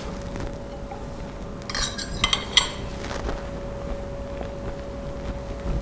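Cutlery scrapes and clinks against a plate while slicing into a stuffed chicken breast filled with shrimp, crab and cheese; a few short, fairly faint metallic clinks and scrapes cluster together over a low steady background hum.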